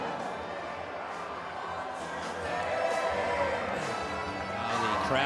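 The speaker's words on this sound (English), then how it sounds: "The crowd enjoying themselves here at Waikato Stadium" A large crowd at Waikato Stadium murmurs and cheers during a New Zealand versus Australia rugby league match, a steady distant roar that swells slightly toward the end, with a commentator talking over it.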